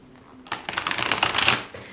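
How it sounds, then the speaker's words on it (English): A stiff, thick deck of tarot-style cards being shuffled, one rapid riffling burst of dense flicking clicks lasting about a second, close and crisp. "It's always trying to shuffle this deck. The cards are so stiff, they are so thick."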